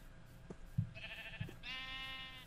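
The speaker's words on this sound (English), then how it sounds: "There's some sheep." Sheep in Minecraft give two bleats, a shorter one near the start and a longer, wavering one that trails into the end, moderately close and heard alone over faint game ambience.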